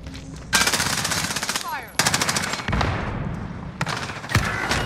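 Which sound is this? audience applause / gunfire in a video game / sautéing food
gunfire in a video game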